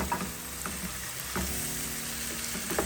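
Ginger garlic paste fries in a pan for a fish thokku, giving a steady close sizzle with a few scraping stirs. No one speaks.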